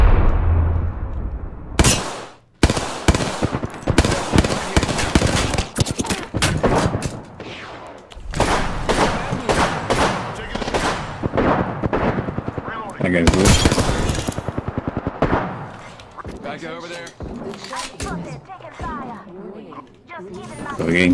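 Rapid bursts of automatic gunfire and single shots crack repeatedly in a video game firefight, loud and close, with players talking over the shooting.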